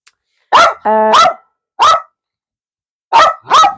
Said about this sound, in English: She's going to bark at me in a minute.